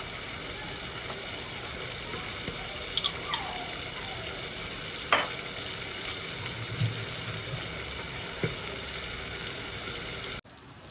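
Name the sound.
chicken frying in a pan with garlic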